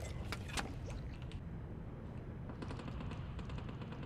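Faint bursts of gunfire from the underwater battle royale game Last Tide crackle in short clusters, distant and muffled against a low rumble.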